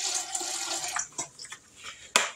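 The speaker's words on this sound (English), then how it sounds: "I'm going to put a little bit of white vinegar in the water." White vinegar poured into a canning pot already holding about three quarts of cold water, set up for canning black beans; a short, close splashing trickle with a sharp splash near the end.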